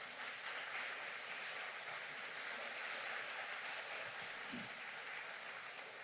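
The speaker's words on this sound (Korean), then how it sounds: "하나님께 영광의 박수 올려드리겠습니다" Steady applause from a church congregation during a Sunday afternoon service, continuous dense clapping heard from some distance, even in volume throughout.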